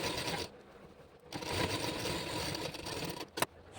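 A sewing machine stitches down a folded hem on lining cloth for a maxi dress, a close, steady mechanical whirring run that pauses briefly near the start and ends with a sharp click.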